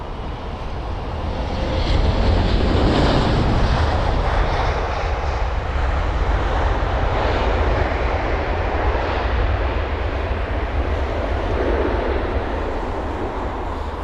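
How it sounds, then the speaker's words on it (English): An Avianca Boeing 787 arriving from Bogota at London Heathrow, a loud steady broadband jet roar that swells early and holds for the whole stretch, with no talk. "the ground actions right now with the Avianca 787, that was the arrival from Bogota"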